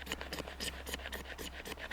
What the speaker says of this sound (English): I can have a really decent pile of shavings, magnesium shavings